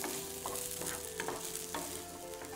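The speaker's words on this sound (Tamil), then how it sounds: "இப்போ சின்ன வெங்காயமும் கருவேப்பில போட்டு வதக்கிட்டு இருக்கீங்க." Small shallots and curry leaves sautéing in a pan for mutton kulambu, a steady close sizzle broken by a few sharp scraping strokes of a spoon stirring, with no talk.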